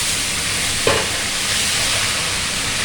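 Steady loud frying sizzle fills a pan of fried sarputi fish as blanched beans and brinjal are added, with one brief clatter as they drop in and a continuous hiss afterward.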